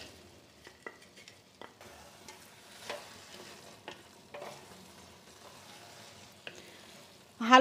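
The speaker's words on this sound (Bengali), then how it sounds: "হালুয়ার সঙ্গে খুব ভালো করে মিশিয়ে নিলাম।" Carrot halwa with fried dry fruits is stirred in a pan, making soft scraping strokes and a faint low sizzle in a quiet kitchen, ending with a louder clatter, no talk.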